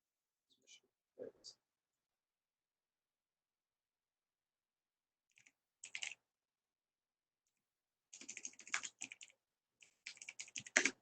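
Typing on a computer keyboard comes in short clusters of quick, light key clicks separated by long silences, close and fairly faint, with no talk over it.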